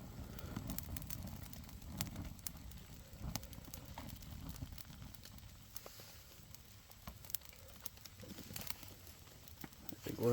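A wet campfire on a rainy day hike is fanned for oxygen, giving a steady low rushing of air with scattered crackles and pops throughout, outdoors and fairly faint.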